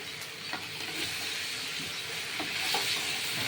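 Vegetable fritters frying in a kadai of oil for a vegetarian pumpkin-vine curry, a moderate continuous sizzle and hiss with a few faint clicks and stirring touches, fairly soft and close, with no talking.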